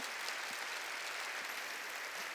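Steady applause from a church congregation fills a large worship hall, a continuous, even patter of many hands heard from a moderate distance and free of talk.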